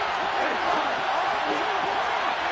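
A football stadium crowd roars steadily at a tense third-and-short moment, a dense continuous wash of cheering with a commentator's voice running over it.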